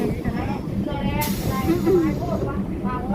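A passenger train rumbles steadily while reversing, a continuous low mechanical drone with a brief hiss and faint squeals, close and loud, with a person talking over it.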